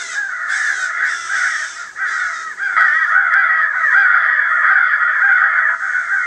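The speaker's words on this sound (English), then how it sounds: "we got some crows flying in the air" A FoxPro Spitfire electronic caller plays a dense, loud run of harsh crow caws that repeats rapidly and continuously, with no talking over it.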